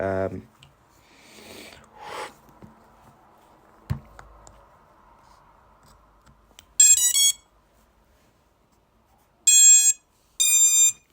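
Short electronic beeps from a drone controller sound in bursts, spaced by pauses of quiet and a few clicks and rustles, with a brief voice at the start.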